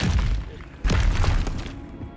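A Bombarda blasting spell in Hogwarts Legacy strikes with a heavy thud and crumbling, shattering debris, followed by a second burst of crashing rubble that fades into low rumble.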